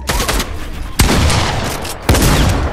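Bursts of gunfire from the minigun in Fortnite, a loud sustained rattle broken by sharp heavy onsets near one and two seconds, with no voices.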